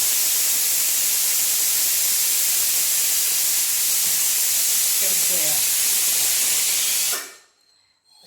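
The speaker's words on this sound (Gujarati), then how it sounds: "અને દાળ ભાતનું કુકર મૂકી દીધું છે" Pressure cooker with dal and rice hissing steam, a loud continuous bright hiss that cuts off abruptly near the end, with a brief voice in the background.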